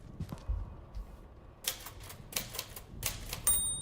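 Old typewriter in a haunted Irish manor being typed on, a burst of sharp mechanical key strikes with a faint bell ding near the end, close and clear in a quiet room.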